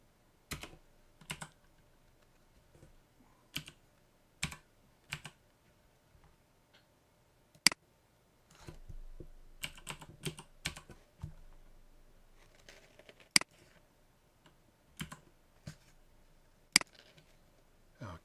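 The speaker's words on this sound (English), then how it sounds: "Be good if I could type." Typing on a computer keyboard at a desk heard up close as sparse, irregular key clicks and taps separated by pauses, with a brief stretch of denser clattering in the middle.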